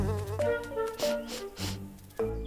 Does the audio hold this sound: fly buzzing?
yes